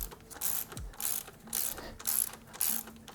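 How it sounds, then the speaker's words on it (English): A ratchet with a 17 mm socket loosening a frame bolt on a 2019+ Honda CB650R motorcycle, sounding as several quick bursts of rapid pawl clicking separated by short pauses, close and clear. "let's grab a 17 millimeter socket and loosen this bolt"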